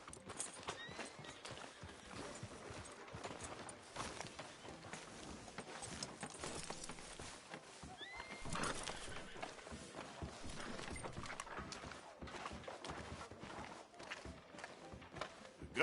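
Horse hooves clip-clop at a steady pace in a Western town street in the video game Red Dead Redemption 2, with a brief whinny, under continuous game ambience and music.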